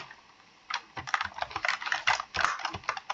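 Rapid clicking keystrokes on a computer keyboard, a quiet start followed by a steady burst of close typing.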